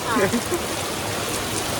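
Rain falls in a steady, dense hiss outdoors in Khopoli, with a brief voice at the start before the downpour carries on alone.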